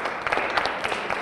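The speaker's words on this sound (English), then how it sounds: "I want you to clap for yourself." An audience claps for the scholars at an MLK oratory competition in Jersey City, a loud, steady patter of many hands filling a hall.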